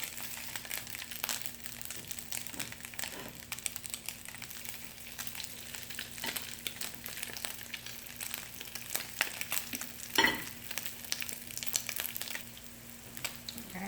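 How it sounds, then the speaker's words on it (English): Crab cakes sizzle steadily in a hot pan as they brown on each side, a continuous crackling fry with scattered pops and a brief louder clatter midway, no talking. "you're just going to cook them on each side until they're brown."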